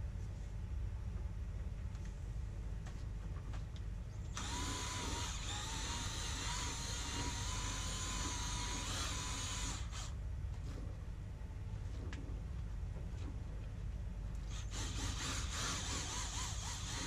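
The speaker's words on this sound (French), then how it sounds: "Prenez une perceuse avec un embout qui broie" A quiet electric drill with a mixing bit whirs in two bursts while mixing crushed apple pulp, a longer run followed by a pause and then a shorter one, with a faint background hum.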